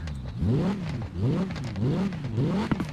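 Quadra car in Forza Horizon 4 revving hard, the engine pitch sweeping up and down in repeated rising-falling waves with a rough exhaust rasp and a sharp pop near the end, close and loud with no talk.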